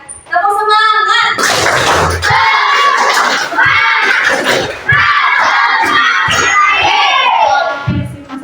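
Schoolchildren in a classroom loudly chant and shout together while performing the 'tepuk semangat' clapping routine, voices rising in bursts punctuated by rhythmic claps and thumps after a brief opening call.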